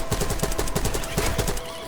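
Rapid bursts of gunfire in the Call of Duty zombies map Citadelle des Morts, a steady, evenly spaced volley of shots at moderate loudness with no voices over it.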